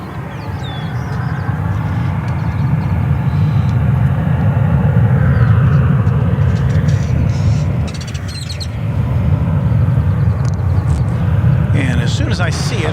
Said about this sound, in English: We'll get a nice long look at the 777 coming in from a long way away.